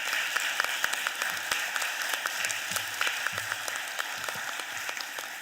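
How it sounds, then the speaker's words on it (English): A committee audience at a city government education hearing applauds, with a steady patter of many hands clapping and a few sharper individual claps standing out, moderately loud throughout. "So can we give them a round of applause, please?"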